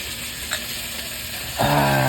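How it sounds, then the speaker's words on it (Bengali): Small fish frying in a pan at home, a steady hissing sizzle that swells louder toward the end with a low humming tone joining in. "এই তো মাছ ভাজা।"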